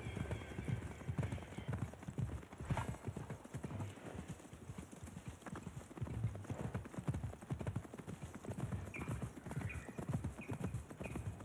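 A horse gallops in the video game Assassin's Creed Mirage, with continuous rhythmic hoofbeats and an occasional whinny at moderate loudness, under faint background talk.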